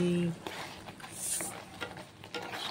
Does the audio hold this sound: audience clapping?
no